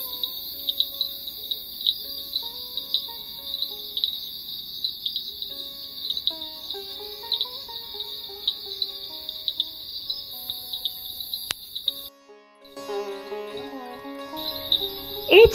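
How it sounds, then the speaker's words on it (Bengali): Crickets chirp in a continuous, shrill trill around a hilltop homestay in Charkhole village near Kalimpong at dusk, with fainter scattered calls underneath and a few louder sounds near the end. "এখানে শুধু ঝিঝি পোকার আওয়াজই রয়েছে"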